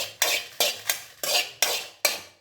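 Coriander seeds and dried red chillies are dry-roasted in a pan, stirred with a spatula in six crisp, evenly spaced scraping strokes that rattle the seeds close up. Nobody speaks.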